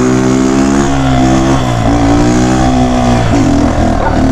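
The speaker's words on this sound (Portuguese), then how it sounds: "tô odiando esse escapamento furado" A small, weak motorcycle with a holed exhaust and a recently replaced carburetor revs loudly and close, its rough, rattly engine note rising and falling steadily through the whole stretch with no talk.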